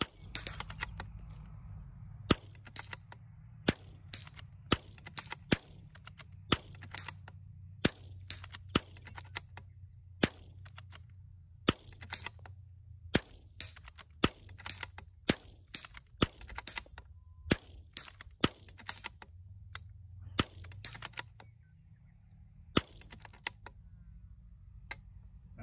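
Rifle shots striking steel targets at a shooting range: sharp, isolated cracks and pings in irregular succession, dozens over the span, fairly quiet overall against a low background rumble.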